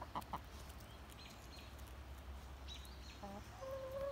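Broody hen near a chicken coop, giving a few soft, faint clucks and short calls over quiet outdoor background, with no talking.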